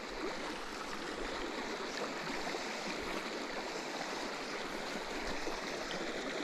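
Running water in a shallow trout stream beside a road makes a steady broadband rush and gurgle, close and constant throughout.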